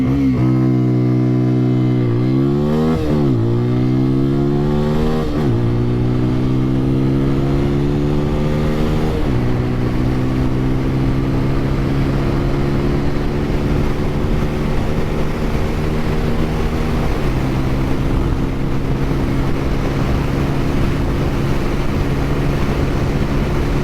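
A 2020 TVS Apache RTR 200 4V motorcycle in sports mode gives a steady, loud exhaust drone with several rising revs and gear-like pitch steps, recorded up close with constant wind rush and no talk.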